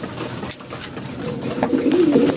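Pigeons coo in a loft, soft throaty rolling calls repeating close by, growing fuller toward the end over faint background rustle.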